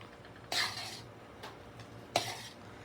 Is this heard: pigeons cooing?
no